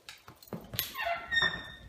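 A dog during training whimpering in a few brief, high, faint whines with small thumps and shuffles nearby, close and quiet, with no talk.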